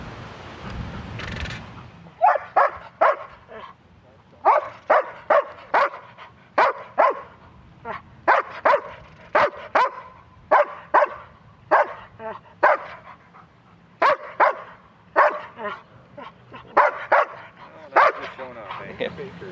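A Shepherd–Malinois mix police K-9 barks repeatedly and loudly at close range, in bursts of sharp barks with short pauses between them, over a low background rumble.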